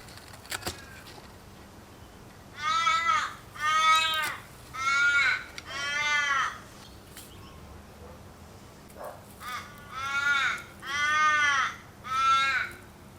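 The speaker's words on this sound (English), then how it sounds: "Those crows." Crows on a self-sufficient homestead caw in harsh, repeated calls: a run of four loud caws, a short pause, then another cluster of three or four, over quiet background hiss.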